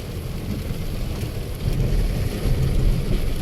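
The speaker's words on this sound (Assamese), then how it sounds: "ইমান বৰষুণ দিছে" Heavy rain on a drive in Assam, near the Maha Mrityunjay temple, makes a dense, continuous roar with a wind-like rush that swells partway through, loud and alone with no talking.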